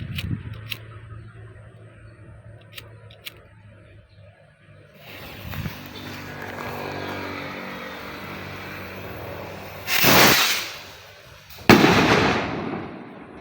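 Super kwitis firecrackers from Negros going off outdoors: quiet ambient noise and faint crackles at first, then a rising whoosh, a loud sharp blast, and a second sharp bang near the end.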